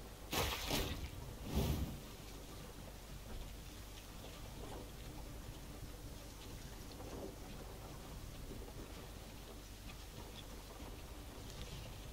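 Steady rain in the video game Gwent hisses throughout, with two brief heavy rumbles early on before settling into an even, soft downpour.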